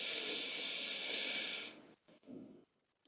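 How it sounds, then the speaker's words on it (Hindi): A deep, steady breath drawn in during a breathing exercise, a long airy hiss lasting well over a second that fades into quieter, softer breaths close to the mic. "आओ वापस, रिलैक्स, गहरा सांस लो।"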